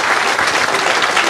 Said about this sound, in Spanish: Si le va a aplaudir, apláudale con todo su corazón.